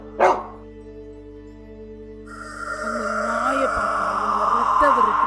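A dog barks once in a short, sharp burst, inserted as a sound effect in a narrated Tamil zombie story, followed by a steady droning music bed.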